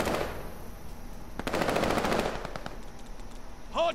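Rapid machine-gun fire from an airstrike strafing run in a first-person shooter game, a sustained burst of fast shots that swells and then trails off into scattered distant pops.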